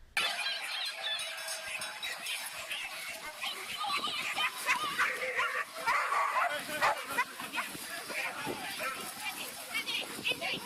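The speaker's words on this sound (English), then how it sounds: "there's a lot of dogs on this start line" Many dogs barking and yipping at a crowded winter park run start line at Sherwood Pines, repeated close and distant barks over the chatter of adults and children.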